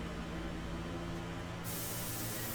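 An airbrush sprays India ink onto paper in a steady, close, unbroken hiss that grows brighter and stronger partway through, with no talking.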